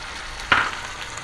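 A small, medium-sized onion drops into a hot pan for chicken masala kebabs, giving one brief burst of sizzling that swells quickly and then settles into a quieter, steady frying hiss.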